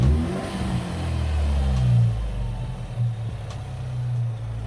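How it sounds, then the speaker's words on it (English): A turbocharged car engine revving up and dropping back, with a rising, deep mechanical roar. A short whoosh follows as the throttle lifts, like a blow-off valve, and the engine then settles into a steady low idle nearby. "So my cousin's gonna rev it right now, and we'll see how it sounds like."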